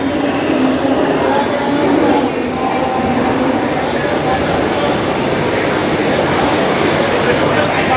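A passenger train in motion gives a loud, continuous rumbling roar with rail clatter from inside the carriage, steady throughout, with voices and talk mixed into the noise.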